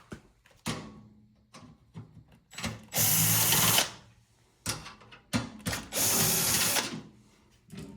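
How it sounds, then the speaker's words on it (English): Power driver with a ratcheting clicks removing 5/16 bolts from a GE refrigerator cover, two loud bursts of whirring broken up by clanks and rattles of handling nearby. "So I'm gonna go ahead and remove all those and get this cover off."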